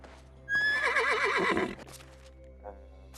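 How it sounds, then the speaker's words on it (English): A horse in the Medieval Dynasty video game lets out one loud, warbling whinny close by, followed by a couple of faint hoof clops as it settles. "I was hoping for the horse to get over here."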